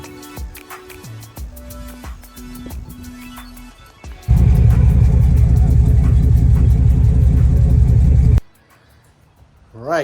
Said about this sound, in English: now I've got the truck pulled out. Drives great.